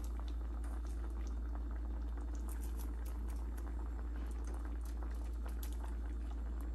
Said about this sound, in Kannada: ಈಗ ಕುದಿ ಬಂದಿದೆಯಲ್ಲ,